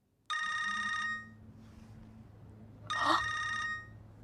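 A telephone rings with two distinct bursts of a bright electronic trill, each about a second long with a pause between, heard in a quiet room over a low background hum.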